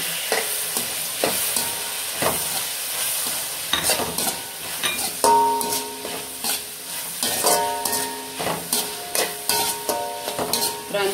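Beans and tomato sauté in oil in a pan, with a continuous sizzle and repeated sharp spatula scrapes and taps against the metal.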